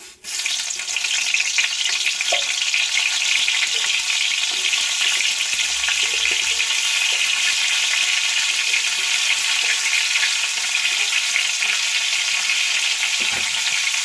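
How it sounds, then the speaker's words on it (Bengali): Bitter gourd pieces frying in hot mustard oil in a kadai, a bright continuous sizzle with crackling bubbles and occasional stirring clinks, steady and close. "কড়াইয়ের তেল এখন গরম হয়ে গেছে, দিয়ে দিচ্ছি করলাগুলো।"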